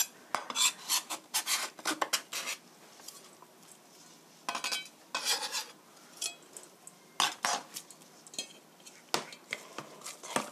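A knife chops meat and onion on a board for hamburger steak, making bursts of close, rapid taps and scrapes separated by short pauses.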